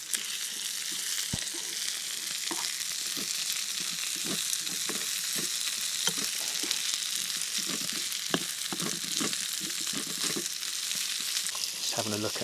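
Tomatoes frying in a pan at a camp basecamp, a steady bright sizzle throughout, punctuated by repeated scraping clicks of a utensil stirring against the pan, near and continuous.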